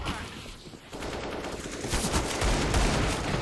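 Dense CS:GO gunfire, crackling shots overlapping into a loud, continuous roll of battle noise that swells toward the end, with no voices.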